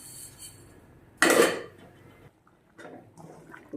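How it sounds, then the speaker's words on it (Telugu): Wheat rava (semolina) poured into a pan for upma gives one loud, brief rushing clatter, followed by quieter scraping and stirring sounds from the pan. "అండ్ ఇప్పుడు రవ్వ వేసేద్దాం."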